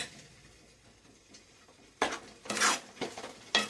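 Spoon stirring mutton gravy with coconut and water in a pan, a few soft scraping and clinking strokes after a quiet stretch.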